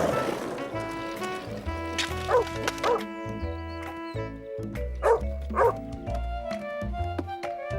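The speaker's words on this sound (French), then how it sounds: "Les chiens avaient plutôt l'air de s'amuser." Cartoon dogs bark and yip playfully in a series of sharp, close barks over a bright musical background, with a few whimpers mixed in.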